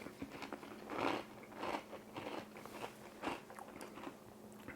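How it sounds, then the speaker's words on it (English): A crispy Dutch kniepertje cookie topped with cinnamon whipped cream, eaten in close, quiet crunchy bites with chewing and soft crackles, several times in a row and no talk. "The texture is nice and crispy."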